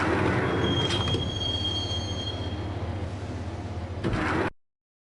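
A video game train rumbles steadily along the rails with a thin, high wheel squeal, ending in a louder clatter before cutting off.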